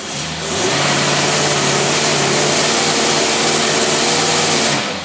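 A Predator PXI engine revs hard and bounces off the rev limiter, a loud, close, sustained buzzing roar held steady for several seconds before dropping away, with no voices.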